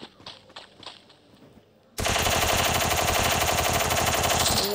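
Gunfire from a looted gun in a video game: quiet game ambience, then a loud, sustained burst of rapid automatic shots that continues to the end.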